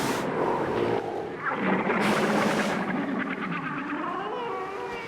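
Humpback whales vocalize nearby, with loud sweeping moans and rising, warbling cries that overlap one another and fill the ocean soundscape.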